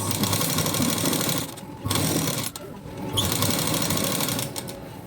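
Sewing machine stitching a doubled one-and-a-half-inch fabric piece for a blouse frill, running in steady mechanical bursts with two short pauses, close and alone with no talk.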